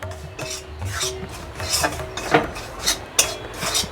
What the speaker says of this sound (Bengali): হাফ বাটি ময়দা আমি একটু শুকনো খোলায় ভেজে নেব একটু নাড়াচাড়া করে নেব শুকনো খোলায়